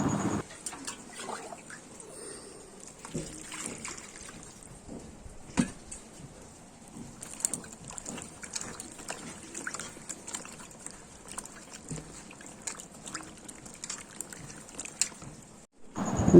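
Cut pointed gourds are rinsed under running water, with a continuous trickling splash and scattered clatters of the pieces being handled nearby.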